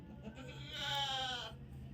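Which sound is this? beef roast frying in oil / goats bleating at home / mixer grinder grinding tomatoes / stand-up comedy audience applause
goats bleating at home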